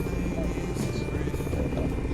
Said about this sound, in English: I used to be able to fly a helicopter a lot better than this in the sim